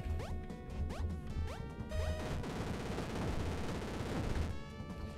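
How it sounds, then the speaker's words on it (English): Rapid machine gun fire in the video game Super Crate Box, a dense stream of quick shots mixed with short zapping game effects, continuous and fairly loud with no talk over it. "I like how the machine gun has a little bit of pushback on it."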